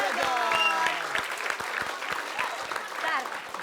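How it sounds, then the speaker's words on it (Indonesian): Audience applause for a trio of comedians on a televised comedy show, a dense steady patter of clapping with a host's voice talking over it throughout. "Kita kasih tepuk tangan dulu buat Bang Bolot, Bang Ali dan juga Mas Jojo."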